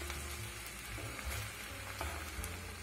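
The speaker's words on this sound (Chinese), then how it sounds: "用大火这样翻一下" Beef, onion and tomato tossed over high heat in a pan for a tomato beef stew, with a steady dense sizzle and faint intermittent scraping and knocks as the food is turned.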